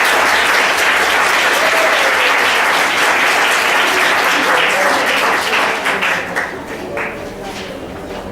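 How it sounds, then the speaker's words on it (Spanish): Audience at a school Book Day event opening applauds, a loud, dense burst of clapping that holds steady for several seconds and then thins out toward the end. "Un aplauso."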